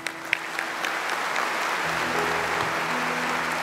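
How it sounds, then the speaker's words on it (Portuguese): A church congregation applauding during Mass, a few scattered claps quickly swelling into steady, dense applause from a large crowd that carries on to the end. "Aplaudamos a palavra de Deus."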